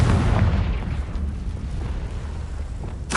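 A Confringo fire spell going off in a Hogwarts video game, a loud booming blast that hits at once and rumbles away over a few seconds, with a brief burst near the end.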